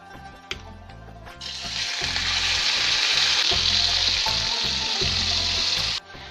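Cubes of chicken breast dropped into a hot pan with a large spoonful of oil: after a clatter, a loud, close sizzle swells and holds steady, then cuts off sharply near the end, with no talking.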